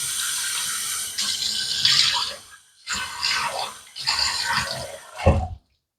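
A bathroom tap runs into a sink while water is splashed onto a face before a wet shave, heard as a steady rush broken by several short gaps and splashes.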